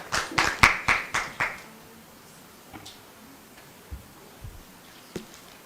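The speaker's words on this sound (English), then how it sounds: "Let's clap for Dr. Mutumba as he makes his way here" An audience at a live public dialogue event gives a short burst of clapping that fades quickly, followed by a few scattered, fainter claps.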